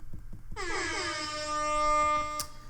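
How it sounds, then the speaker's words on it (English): An air horn blasts in one sustained, piercing note for about two seconds, preceded by a few soft clicks. "That deserves an air horn, I think."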